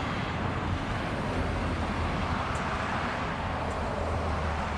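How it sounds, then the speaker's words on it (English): Highway traffic roars beside a 2019 Nautique GS 24 boat at a MarineMax marina on Lake of the Ozarks. It is a continuous, even wash of road noise throughout, with no voices. "I apologize for the noise. We're next to a highway."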